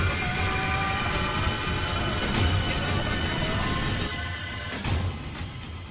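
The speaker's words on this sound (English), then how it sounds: "Flight 191 smashes into the ground just short of the trailer park." American Flight 191, an airliner, slams into the ground just short of a trailer park: a loud, dense rumbling roar with a couple of sharp impacts breaking through, no voices.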